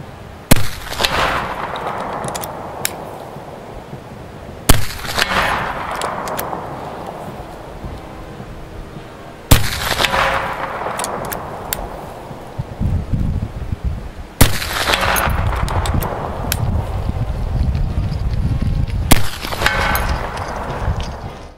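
A Martini-Henry Mk I single-shot rifle fires five loud, sharp shots roughly five seconds apart outdoors, each blast trailing into a long echoing decay, with reloading clatter between shots.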